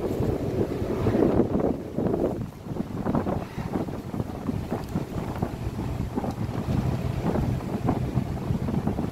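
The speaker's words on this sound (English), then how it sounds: "The engine on this bus sounds absolutely fantastic." Engine of a First South Yorkshire single bus, fleet number 36259, built in 2012, heard from on board while it drives Doncaster service X3. A steady low rumble runs throughout with road and wind noise and no talking.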